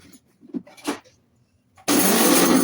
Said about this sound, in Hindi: मैं इसको ऐसे मिक्सी में हल्का दरदरा में पीस लेती हूँ